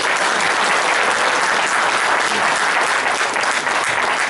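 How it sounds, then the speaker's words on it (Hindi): Loud, dense applause from a church congregation after a pastor's sermon, a continuous roar of many hands clapping evenly from start to finish. "जोरदार ताली हो जाए।"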